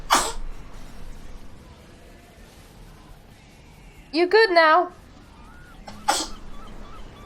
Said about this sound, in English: My cat just started sneezing.